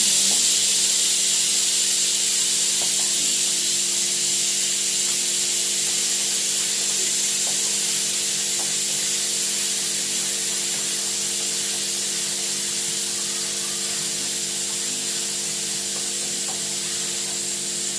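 Chopped tomato sizzles in oil in a pan while ghugni is being cooked, a steady, loud, continuous frying hiss that holds unbroken throughout, with no talking.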